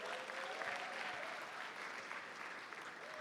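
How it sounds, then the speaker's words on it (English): Audience applause fills a conference hall, a steady wash of many hands clapping for a few seconds, with faint voices mixed in. "Give me a round of applause."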